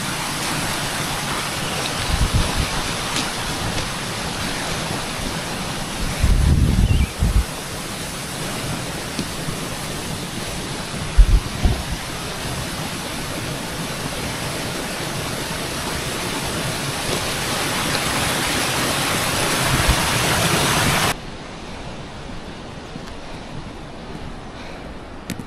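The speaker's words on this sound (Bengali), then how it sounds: "সামনে একটা স্ট্রিম আছে।" A mountain stream rushes along a hiking trail near Shashur Monastery above Keylong in Himachal, a steady broadband roar of flowing water with a few brief thumps, cutting off sharply near the end to a quieter hiss.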